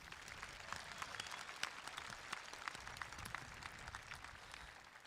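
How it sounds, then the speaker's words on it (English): Sustained applause from a large crowd at a high school graduation ceremony, dense and even clapping that continues steadily throughout without a break. "Please give another round of applause for these deserving retirees."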